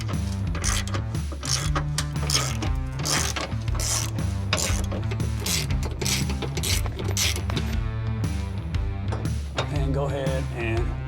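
A ratchet clicks rapidly in repeated bursts while truck bed bolts and nuts are loosened, with metallic clinks and rattles between strokes, close and distinct.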